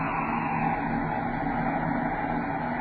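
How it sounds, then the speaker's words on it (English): Braking rocket engines fire during a spaceship's landing approach on an asteroid, a continuous, even roaring rush that holds steady from start to finish, heard alone. "Braking rockets"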